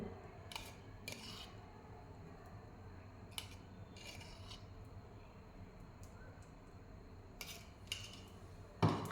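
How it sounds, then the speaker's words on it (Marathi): Semolina roasting with about three spoons of ghee in a pan over a medium flame, stirred with a spoon that scrapes and clinks against the metal in short, irregular bursts over a low, steady sizzle. "आणि व्यवस्थित हलवत याला मस्त असं खमंग भाजून घ्यायचं"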